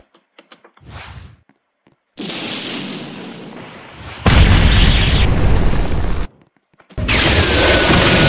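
Counter attack landing in a JoJo's Bizarre Adventure fighting game: a loud sharp burst followed by booming impact noise and heavy crashing effects in separate bursts, with short silences between them.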